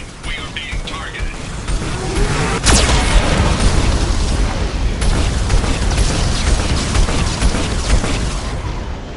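Geth cannon fire and explosions in a science-fiction video game, a dense continuous roar with a sharp blast near the three-second mark, booming under a steady stream of game voice and effects.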